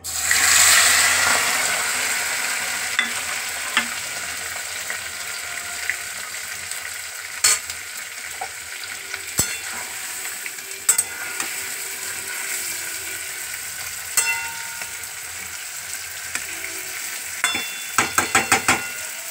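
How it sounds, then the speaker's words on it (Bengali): Giant freshwater prawns frying in a pan for a malai curry give off a steady sizzle with stirring noises, and a run of sharper clatters comes near the end, with no one speaking. "এইবার চিংড়ি মাছটা ভাজা হবে।"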